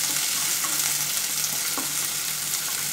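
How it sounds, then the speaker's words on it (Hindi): Red and yellow bell peppers sauté in a hot pan for a Honey chilli potato recipe, giving a loud, continuous sizzle with faint stirring scrapes and no voices. "बस थोड़ी थोड़ी देर ही इसको हमें सौते करना है"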